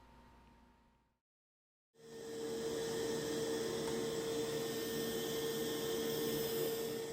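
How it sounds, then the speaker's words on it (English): A Mova Z60 Ultra robot vacuum runs at maximum power on carpet. Its steady whirring hum with a fixed tonal whine starts after a brief lull and stays fairly quiet and constant. "This is the robot running at max power on carpeting, and it's still fairly quiet."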